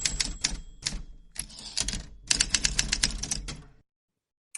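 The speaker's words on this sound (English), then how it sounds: "we're ready for the typewriter" A typewriter sound effect of rapid mechanical key strikes, heard in several dense bursts with brief pauses between them. It is loud and close, then stops abruptly and is followed by near silence with a final faint click.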